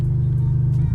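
A simulated BMW M4 engine sound from a car sound app gives a continuous low throaty drone, loud and steady for a brief moment, with no speech.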